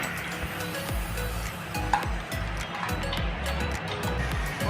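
Ginger and cumin fry in oil in a kadai, giving a soft, steady sizzle at low volume, broken by occasional metal clinks of a spoon against the pan.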